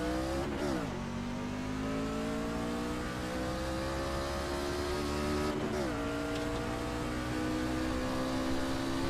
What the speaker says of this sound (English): Truck race at Charlotte.